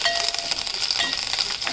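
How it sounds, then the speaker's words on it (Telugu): Curry leaves frying in hot tempering oil for a Telugu nalleru chutney give a steady, crackling sizzle with bright spitting pops, close and continuous throughout the short moment. "ఇది అందుకని కరివేపాకు ఇప్పుడు తాలింపులో వేస్తాను"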